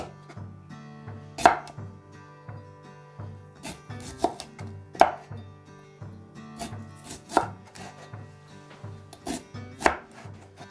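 A knife slices cucumbers for bread and butter pickles on a cutting board, giving sharp, near chops at a steady, unhurried rhythm, about a dozen cuts, with no talking.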